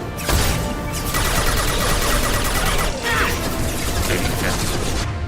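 Dense, continuous gunfire from the Mass Effect 2 video game: a steady barrage of shots and impacts with game effects, loud and sustained throughout, with a voice speaking over it at times.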